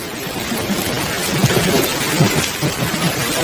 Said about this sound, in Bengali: বড় বড় ফোঁটায় মুষলধারে বৃষ্টি হচ্ছে।